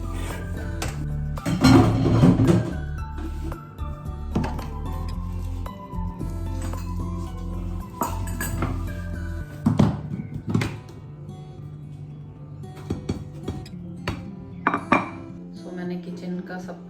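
Dishes and utensils being washed in a home kitchen: steady clinks of metal pots, plates and cutlery knocking together, with bursts of clattering, close and fairly loud throughout.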